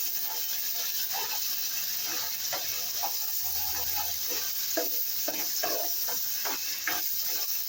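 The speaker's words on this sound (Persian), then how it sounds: "قارچو با پیاز و فلفلمون تفت میدیم و هم میزنیم" Mushrooms sautéing with onion and fresh pepper in a hot pan, a steady sizzle under repeated scraping stirs of a utensil against the pan, close and continuous.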